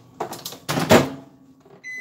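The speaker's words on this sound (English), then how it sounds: "those that are melting their candy melts in the microwave" Clattering and rustling handling noises, then a steady electronic beep tone near the end as a microwave oven melting candy melts finishes its cycle.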